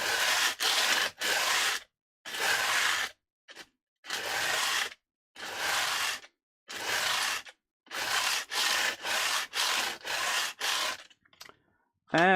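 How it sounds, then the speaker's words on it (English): Filing the fret ends on a 1965 Fender Mustang guitar during restoration, a series of close, loud rasping strokes in rhythmic bursts with short pauses between them. "the end of the frets from the top needs to be trimmed a little bit more"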